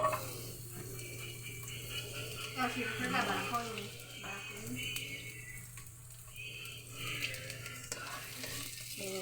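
Garlic sizzles steadily in a pan while being stirred, a crackling frying hiss under a voice speaking throughout, with a low hum beneath.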